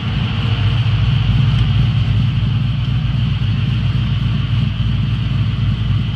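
A 1985 Chevrolet C10 truck with a Magnaflow exhaust idles close by, giving a loud, steady, deep rumble that holds even throughout with no voices.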